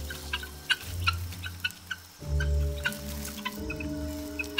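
Guinea fowl calling in the wild while facing a snake threat, giving harsh, repeated clucking and gobbling cries in an irregular rhythm, loud and close, with several birds overlapping.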